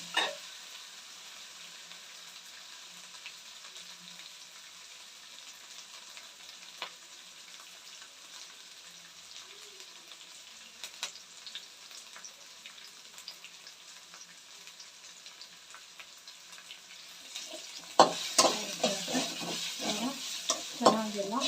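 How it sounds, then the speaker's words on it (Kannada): Food for egg rice fries in a pan with a steady, even sizzle, then gets stirred near the end with louder scraping and clattering over the hiss. "ಚೆನ್ನಾಗೆಲ್ಲ ಹುರಿತಾ ಇದ್ದೀನಿ."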